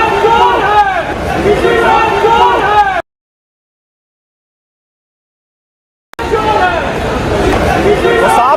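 A crowd of angry airline passengers shouts at an airport, loud overlapping voices and hubbub in two stretches broken by a few seconds of silence.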